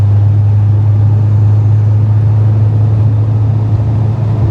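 A car drives along a mountain road near Lake McClure in Merced, California, its steady low engine rumble and road noise loud and continuous throughout, with no talking.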